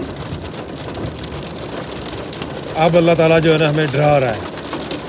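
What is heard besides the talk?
heavy rain and hail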